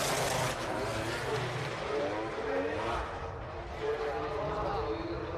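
A Mazda RX-7 FC with a three-rotor 20B rotary engine drifting at Tsukuba during a D1GP round, its humming, buzzy engine note steady and loud throughout with commentary talk over it.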